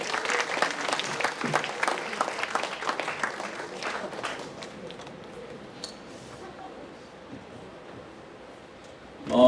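An audience applauding in a chapel, a dense burst of clapping from many hands that tapers off over several seconds into a quiet room, ending with a brief louder sound.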